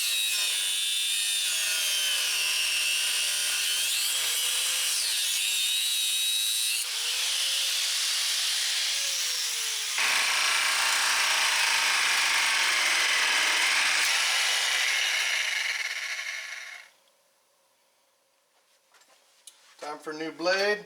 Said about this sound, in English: So I'm going to have to cut this side off right here with the grinder.